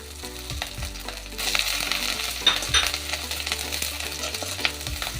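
Grated ginger and green chillies frying in hot oil after cumin, dry chilli and asafoetida, for a jackfruit curry: a close, steady sizzle that jumps louder as they hit the pan, with stirring scrapes and no talk.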